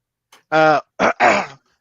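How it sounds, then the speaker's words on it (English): A man clears his throat close to the mic, with a short rasp and then two gruff, voiced throat-clearing bursts. "Let me clear my throat."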